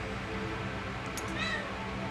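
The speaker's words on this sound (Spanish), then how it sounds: "Pero sigue maullando a todas horas, de día, de noche." A cat meows in a base-building strategy game, the short high cry rising above a steady, busy game soundscape.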